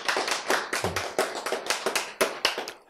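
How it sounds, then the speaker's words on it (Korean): A small group clapping along in a Korean lecture hall on brain waves, a run of distinct, fairly quick handclaps in an uneven rhythm, close and moderately loud. "박수 쳐."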